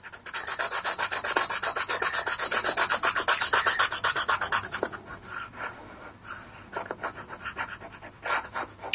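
Caran d'Ache colored pencil shading a sunset on paper, a close, steady rhythmic scratching of quick back-and-forth strokes for about five seconds, then quieter, sparser strokes with a short burst near the end.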